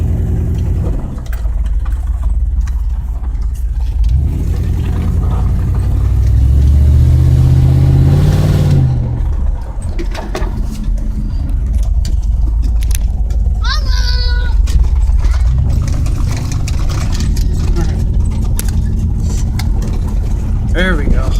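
A pickup truck with a load in its bed drives around the block at normal speed, its exhaust droning loud and close with a swell of revving partway through, and someone talks over it.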